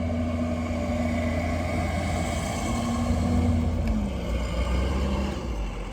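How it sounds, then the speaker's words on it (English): A loud truck passes by outdoors, a heavy engine rumble with a droning tone that swells and then dips as it goes past. Nobody speaks over it. "Damn, that truck loud."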